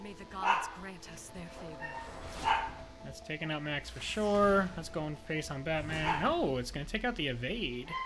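Household dogs barking and yipping in the background, several sharp barks and whimpers scattered across the stretch while someone talks steadily over them during a card game.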